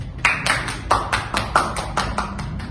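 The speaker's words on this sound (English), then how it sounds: "give applause" Steady rhythmic hand clapping, a dozen or so crisp claps in an even beat, close and fairly loud, with no talking.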